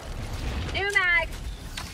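Brief mechanical clack and ratcheting slide of a magazine reload in Helldivers 2, close and fairly crisp, lasting about half a second amid quiet game ambience.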